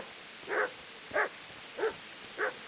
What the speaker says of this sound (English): I think this dog's in his way.